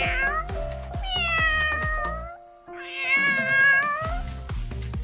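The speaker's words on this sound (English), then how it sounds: "C is for cat." A cat meows several times in drawn-out, tonal cries, with a short pause in the middle, heard clearly and up close.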